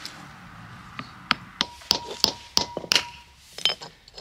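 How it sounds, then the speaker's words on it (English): A hammer taps a butternut (white walnut) shell to crack it, a series of sharp, close knocks at uneven intervals, some ringing slightly. "just give it several taps with the hammer until you hear the main crack"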